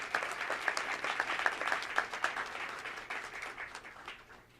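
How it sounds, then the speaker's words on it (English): An audience at a school board meeting applauds the indoor percussion program, a steady round of clapping that stays fairly even and slowly tapers off. "Have a round of applause for them."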